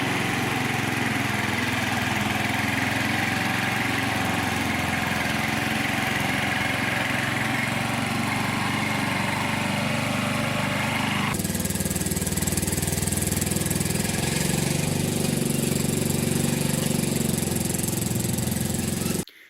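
Troy-Bilt 33-inch wide-area walk-behind mower cutting thick grass, a loud continuous engine drone with rattling blades that shifts in tone midway as the load changes, steady throughout with no talk.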